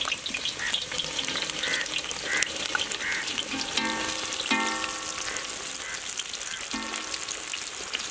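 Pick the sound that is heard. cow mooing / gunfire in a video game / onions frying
onions frying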